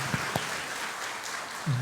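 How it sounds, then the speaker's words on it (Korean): A church congregation at a Korean Sunday service gives a warm round of applause welcoming the pastor, soft steady clapping throughout with a couple of brief sharper claps and a short voice at the end. "우리 목사님 환영합니다 하는 마음으로 따뜻한 박수 부탁드리겠습니다."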